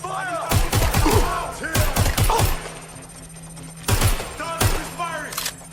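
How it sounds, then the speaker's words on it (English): Gunfire in the video game Watch Dogs Legion, several sharp bursts of close shots in clusters separated by pauses, with voices and chatter mixed in. "Target is firing!"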